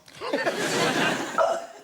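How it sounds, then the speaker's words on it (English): A person on a comedy panel show forces out a long, loud burp in a studio, with audience laughter and voices mixed in around it. "Anybody do loud burping?"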